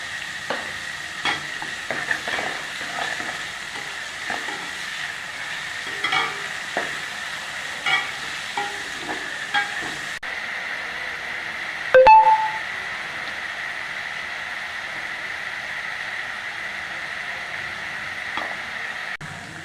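Onions sautéing for crab masala keep up a steady sizzle in the pan, with soft irregular scraping from stirring throughout and one brief louder clatter near the end.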